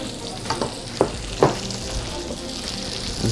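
Grits cook in a hot pan with a dense, crackling sizzle and a few sharp clacks of a spoon or spatula hitting the pan, close up, with no talking.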